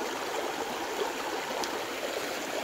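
A river stream flows steadily over stones, with a continuous broadband rush of water that stays even and close throughout, with no voices.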